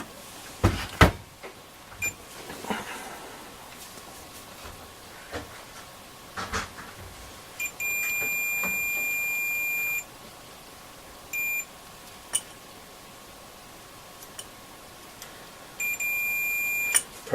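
Multimeter continuity tester gives a steady electronic beep in three separate bursts, two of them lasting a couple of seconds, with light handling knocks and clicks close by in between.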